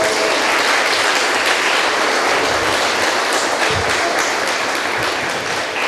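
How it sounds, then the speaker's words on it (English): A large audience at a school platinum jubilee celebration gives a loud, thunderous round of applause for a cardinal, a dense continuous roar of clapping that holds steady for the whole stretch. "Let us give him a thunderous applause."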